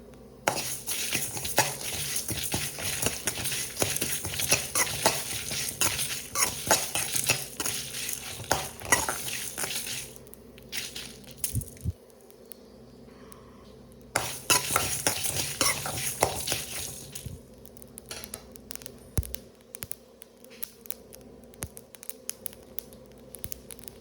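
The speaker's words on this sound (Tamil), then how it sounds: "நம்ம நிறைய மசாலானா ஒன்று ஒன்றா போட்டு வறுக்கலாம்." Dry spices scrape and rattle against a hot pan as they are stirred, a busy crackling texture with brief quieter pauses between bursts of stirring.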